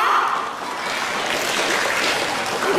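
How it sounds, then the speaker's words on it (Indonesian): Children at a Sunday school Christmas event clap together, a continuous dense wash of clapping at fairly loud level; distinct separate claps are not evident. "kita mau tepuk 3 kali"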